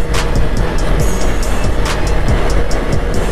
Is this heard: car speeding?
yes